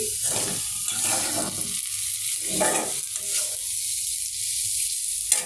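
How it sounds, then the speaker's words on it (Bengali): Potatoes fry in a pan with a steady, close sizzle and bursts of stirring scrapes over a constant hiss. "এখানে যে আলু ভাজি করতেছি"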